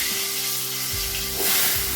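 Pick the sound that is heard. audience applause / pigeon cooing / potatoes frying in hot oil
potatoes frying in hot oil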